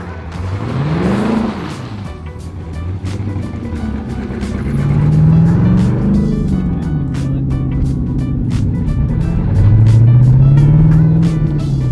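A wrecked C6 Z06 Corvette built for drifting drives close by, its loud engine note rising and falling through several revs and gear changes, with a steady road roar underneath.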